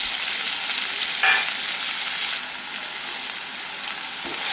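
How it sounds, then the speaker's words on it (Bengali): Tomato fries in hot oil in a pan with turmeric and salt added, giving a steady, loud, continuous sizzle close by, with a brief stirring scrape partway through and no talking. "টমেটোটা গলে যাওয়া অবধি একটু ভেজে নেব"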